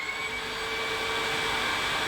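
A Eufy E20 3-in-1 robot vacuum runs with a steady, close motor whine carrying high tonal hums over an even airy rush, constant throughout without talk.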